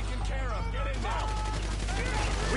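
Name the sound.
gunfire in video game Grand Theft Auto V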